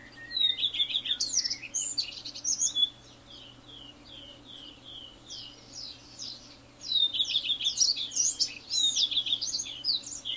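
Male Eurasian siskin feeding on prunus flowers gives bursts of high, rapid twittering chirps, close and clear, in two busy spells separated by a quieter gap with a faint steady hum beneath.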